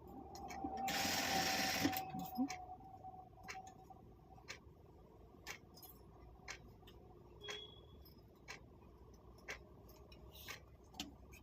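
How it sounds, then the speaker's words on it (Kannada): A sewing machine stitches neatly into the corner of a small fabric pouch made from old cloth scraps. One short close burst of whirring is followed by faint, sparse ticking and handling clicks. "ಸೂಜಿನ ಕೆಳಗಿಳಿಸಿ ಮೂಲೆಗೆ ನೀಟಾಗಿ ಸ್ಟಿಚ್ ಮಾಡ್ಕೊಳ್ಳಿ"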